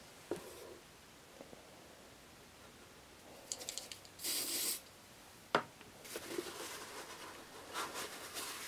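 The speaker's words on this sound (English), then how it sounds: "spray in some kicker and hold it until it is dry" A short hiss of aerosol glue accelerator sprayed onto a superglue joint on a cosplay prop head, rising briefly above quiet handling and rubbing noises in a still workshop.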